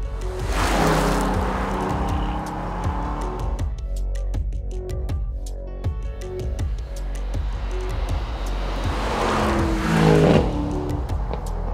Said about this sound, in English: there's an all-new sports exhaust